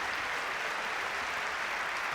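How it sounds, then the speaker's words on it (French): Steady applause from a crowd of about 1,200 spectators at a table tennis match in Montreux, a dense even wash of clapping filling the whole moment without voices. "Sous les applaudissements"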